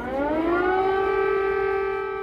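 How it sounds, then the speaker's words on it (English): An air raid siren wails over Kyiv, rising in pitch at the start and then holding a loud, steady, droning tone throughout. "Air raid sirens in Kyiv,"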